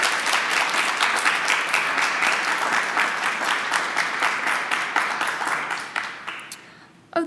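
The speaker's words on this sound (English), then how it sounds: "let's give her another round of applause for that amazing presentation" An honors conference audience applauds after a presentation, with dense, lively clapping that holds steady for several seconds, then thins and fades near the end before a brief sound at the close.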